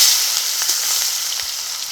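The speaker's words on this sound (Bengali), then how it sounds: "এই তেলে দিয়ে দিচ্ছি গোটা জিরে দিয়েছি একটু তেজপাতা দিয়েছি পেঁয়াজ কুচি" Whole cumin, bay leaf and chopped onion hit hot oil in a pan and sizzle loudly and steadily. The frying is close and constant throughout, with no voices.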